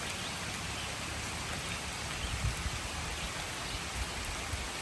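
Steady rain falls on a campsite during a walk, a dense, even hiss of drops on surfaces with faint soft patters, continuous and unbroken, with no voices.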